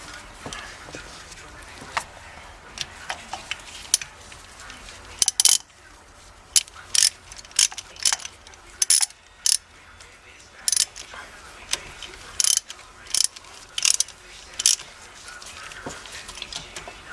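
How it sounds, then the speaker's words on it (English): Ratchet tightening the short throw shifter on a 1986 Mustang GT, heard as repeated short metallic clicking bursts in irregular clusters, fairly close, over a quiet background. "so we'll get this tightened down again"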